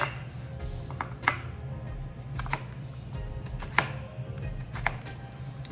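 A knife dices red skin potatoes into small pieces on a cutting board, giving sharp, irregular chopping taps over a low background hum.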